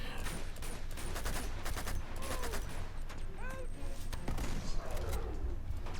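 Sustained gunfire from a high-capacity 150-round gun in Uncharted 2, steady bursts layered over background game noise and effects for the whole stretch, with a few whistling tones mixed in.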